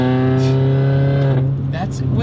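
A supercharged Mini Cooper S engine holds a loud, steady, buzzing drone heard from inside the car, with a voice talking over it.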